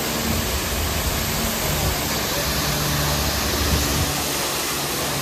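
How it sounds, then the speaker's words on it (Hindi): A mountain waterfall on the Amarnath trek route between Chandanwadi and Sheshnag gives a loud, steady broadband rush of water, continuous and close, without voices. "अरे बहुत ही सुंदर यहाँ पे वाटरफॉल।"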